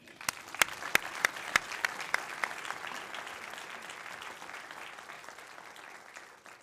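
An audience applauds a lecture speaker on clockwork genes and biological rhythms, opening with a few sharp separate claps that merge into steady, dense clapping and hold evenly to the end.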